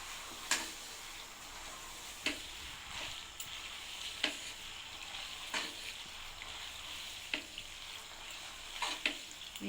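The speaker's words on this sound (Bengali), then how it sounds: "পাস্তার মশলাগুলো মিক্স করে দিব।" Pasta with spices being stirred in a frying pan, a soft continuous sizzle broken by occasional sharp scrapes and clicks of the utensil against the pan, close and fairly quiet with no talking.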